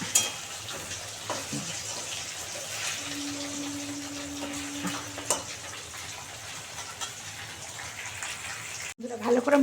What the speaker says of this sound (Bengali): ভালো করে মাছ ভাজা হয়ে গেছে।